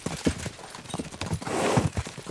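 Horses' hooves clip-clop at a quick gallop in the medieval video game Kingdom Come Deliverance 2, a close, rapid, rhythmic pounding that continues throughout with no talk over it.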